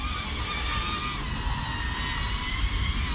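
A Sanrock U61W drone flying outdoors in windy conditions gives a steady, whining buzz of small motors, close and continuous, with wind rumble underneath.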